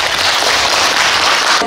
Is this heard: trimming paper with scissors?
no